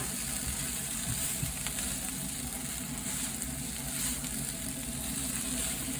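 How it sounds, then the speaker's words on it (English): Chow mein stir fry frying steadily in a pan, a continuous loud broadband sizzle with no talking, holding an even level throughout. "I just brought you back while Wendy's doing the stir fry."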